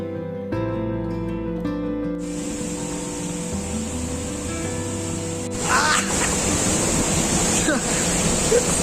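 The Devpat waterfall sends down a steady wash of rushing water that grows fuller and louder midway, accompanied by some tonal background sound early on.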